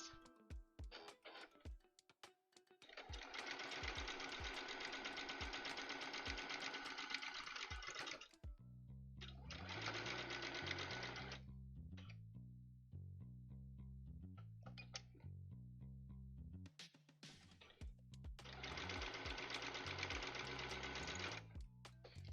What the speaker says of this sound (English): I just put a reinforcement stitch in.